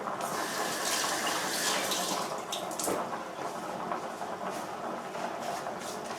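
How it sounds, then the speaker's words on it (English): A hand rinsed under a running kitchen tap while baking: a steady, close rush of water splashing, continuous throughout with small shifts as the hand moves in the stream. "that's sticky, so I'm going to rinse my hand"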